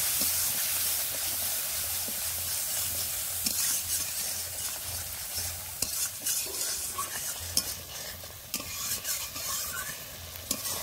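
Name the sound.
spices being stir-fried in a pan for fish curry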